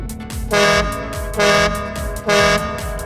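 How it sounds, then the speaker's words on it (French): Three loud horn blasts, evenly spaced, each a steady harmonic tone lasting about a third of a second over a constant low rumble. "Les klaxons sont très utiles pour pouvoir communiquer avec les autres."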